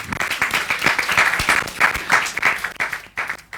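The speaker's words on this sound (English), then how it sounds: "Please give another round of applause to our winning team." An audience at a university research challenge award ceremony claps for the winning team, a dense, lively round of applause heard from within the crowd that thins out near the end.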